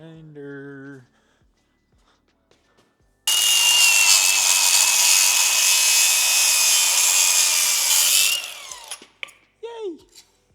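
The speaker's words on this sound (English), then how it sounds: "Grinder." An angle grinder cuts metal during a manual transmission swap on a 1973 Fastback, a loud steady high-pitched whine lasting about five seconds before spinning down, with brief voices before and after.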